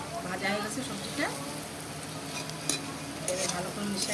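Lightly fried vegetables and egg sizzling in a pan for an egg chow mein, a steady close crackle with stirring scrapes and a voice talking over it.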